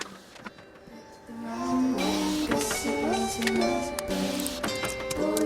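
A 3D printer builds new terrain parts for a gothic sci-fi diorama, its stepper motors giving a whirring, warbling tone with faint ticks, quiet at first and then louder and steady.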